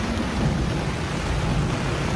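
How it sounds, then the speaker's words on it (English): Heavy rain falling outside a tent during a camping trip, a dense continuous hiss and patter drumming on the fabric nearby, steady throughout with no voices. "Listen to that rain."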